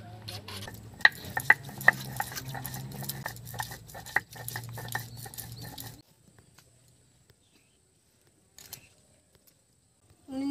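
Ginger is ground on a stone grinding slab (shil) in a Kolkata kitchen. Rough, rhythmic scraping and rolling of stone on stone with a few sharp clicks lasts about six seconds, then near silence.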